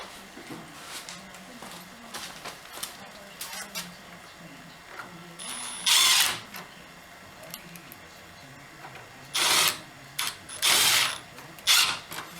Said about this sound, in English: now we're going to screw that template in there